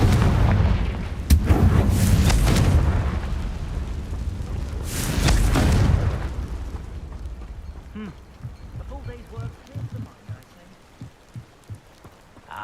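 Confringo blasting-curse explosions in the video game Hogwarts Legacy: two heavy booming blasts with crackling rumble, followed by quieter scattered debris and clattering impacts as the noise dies down.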